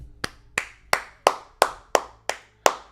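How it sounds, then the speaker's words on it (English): Eight sharp hand claps ring out one by one at a slow, even pace, close and clear with no other sound between them. "I clap it up to him. I applaud him."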